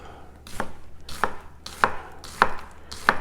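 A Takada no Hamono Ginsan clad suiboku nakiri, 180 mm, slicing through food on a cutting board: five evenly spaced crisp chops about half a second apart, close and clear over a quiet background.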